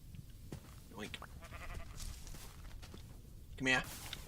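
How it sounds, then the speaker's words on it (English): Minecraft sheep bleat in short, thin cries among footsteps and other game sounds, with a louder bleat near the end. A player talks over them. "Hey, more sheep."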